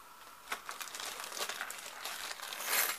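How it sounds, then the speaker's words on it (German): Small charms pour out of a plastic bag onto a hand, giving a faint, close crinkling rustle of plastic with light scattered ticks over about three seconds, with no voices. "Ich werde es euch mal einmal ein bisschen auf die Hand gießen"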